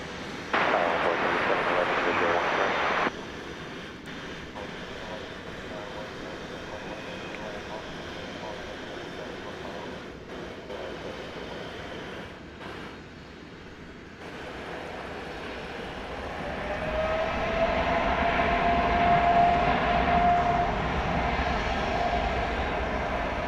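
Eva Air Cargo jet at Dallas Fort Worth airport, a broad distant engine roar that swells and steadies during the second half, with a faint rising whine over steady background noise and some talk at the very start.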